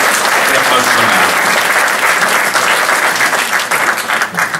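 An audience at a political event breaks into loud, dense applause, many hands clapping together in a sustained wash that gradually thins and fades toward the end.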